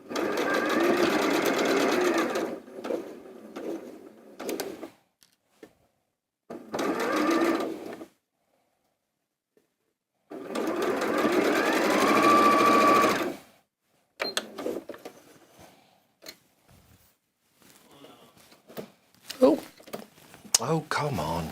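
A sewing machine stitches quilt block seams in several bursts of steady whirring, separated by pauses, with brief speech in between.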